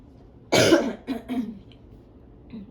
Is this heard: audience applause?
no